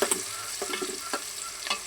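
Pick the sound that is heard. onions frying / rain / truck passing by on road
onions frying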